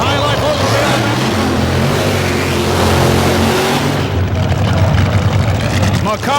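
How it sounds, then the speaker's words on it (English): The Miller High Life Oldsmobile drag racing car rumbles and revs loudly at a drag strip, a deep engine roar that shifts pitch, while a commentator talks over it. "forward comes the beautifully new painted Miller High Life Oldsmobile"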